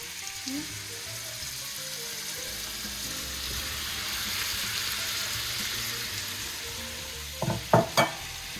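Sausage and a medley of peppers frying in a pan, a steady close sizzle running throughout, with a couple of sharp clanks from stirring or a utensil near the end.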